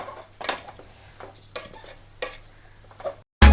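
Soya chunks tossed with spice powders in a pan, stirred with a metal spoon that scrapes and clinks in irregular strokes over a faint sizzle, ending in a sudden loud clatter.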